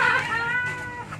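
A pet cat meows in a single drawn-out call close to the listener, with no talk alongside.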